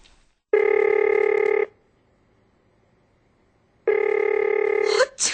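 A telephone rings unanswered in a radio drama: two loud bursts of an old-style electronic ring, each lasting about a second, separated by a quiet pause, with a faint noise at the end.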